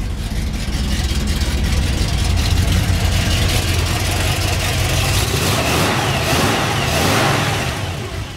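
A 1956 Ford's engine idles with a loud, close, steady low rumble that swells slightly midway, running throughout without any voices over it.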